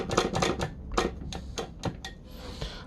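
An Arcade1Up arcade joystick with an octagon gate and a heavier spring is worked by hand, giving a quick run of sharp, close plastic clicks about ten in under three seconds. The clicks are fairly quiet and unevenly spaced.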